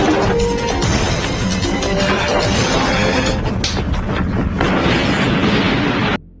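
A car explodes in an action film, a loud, sustained roaring crash with crackling debris and rumble that holds at full intensity for several seconds before abruptly cutting out.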